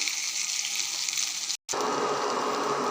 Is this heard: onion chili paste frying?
yes